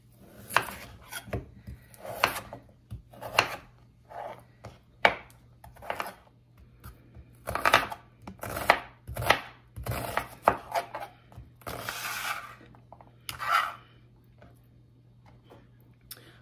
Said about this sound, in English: we're gonna chop up our 5 potatoes that we've peeled